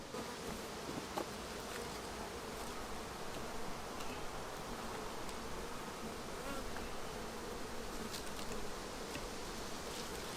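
A dense, continuous drone of many honey bees buzzing all around an open hive being worked, steady and close with no pauses.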